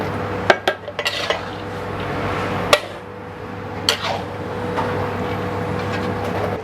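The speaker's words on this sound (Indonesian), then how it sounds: "Ini kita aduk terus sampai ikannya terbalur dengan saus asam manisnya" Fish being stirred in sweet and sour sauce in a large pan for a big batch, a few metallic clanks and scrapes of a utensil against the pan, then a quieter stretch of low cooking noise.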